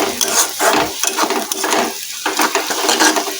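Chopped green chillies being stirred into hot spiced oil in a pan for an egg bhujia, with a spoon scraping and clinking against the pan over a steady sizzle, close and fairly loud.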